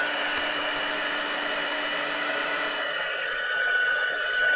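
A hair dryer blows steadily to dry a handmade tag decorated with hand-coloured die cuts and splattered dye, giving a continuous close whirring hum with no talk.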